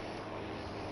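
Steady, droning engine of an airplane carrying bombs in a video game, a continuous even hum with no speech.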